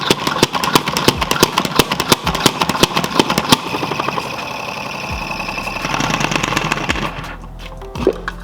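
A salad spinner whirring with washed kale inside, a rapid rattling ratchet that builds into a steady buzzing spin and then winds down, loud and close, with no talking.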